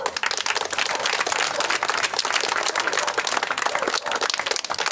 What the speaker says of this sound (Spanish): otro aplauso bien fuerte para la familia López